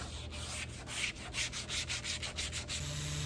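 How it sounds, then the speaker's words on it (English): Rhythmic back-and-forth scratching of 150 grit sandpaper on a wooden table, quick repeated strokes close up with no talking. "started sanding with 150 grit sandpaper"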